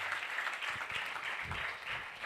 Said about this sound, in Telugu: ఒకసారి దైవజనులు బట్టి గడిగా చప్పట్లు కొట్టి దేవుని నామాన్ని మనం మహిమపడదాం.